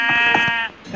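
A sheep bleats in a video game minigame, one loud, close, wavering cry lasting most of a second, followed by a brief fainter sound.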